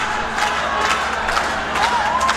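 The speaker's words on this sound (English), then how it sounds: "It's a cheer of Panama in the background." Supporters of the Panama team cheer loudly in a packed hall at a world puzzle championship pairs final, a continuous roar of shouts and whoops with a few rising voices.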